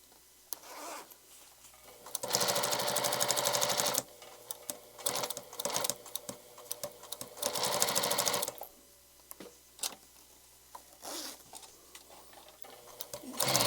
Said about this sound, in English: I'm going to try to sew on the line best I can